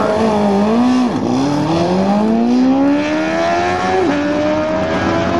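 A Competition Eliminator drag car makes a time trial run at a Grand Bend, Ontario nostalgia drag meet, its engine roaring loud and close, pitch climbing through sharp gear-change drops as it pulls hard away.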